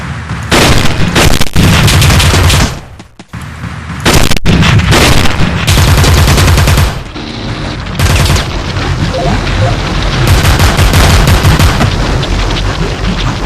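Cannon fire in the top-down shooter Teleglitch, a loud, dense barrage of booming blasts and rapid gunfire in bursts with brief pauses, close and heavy.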